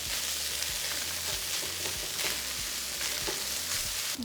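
Egg and rice are stir-fried together for steak fried rice, with a continuous loud hiss of frying and repeated scrapes and tosses of a spatula in the pan, close up, no talking.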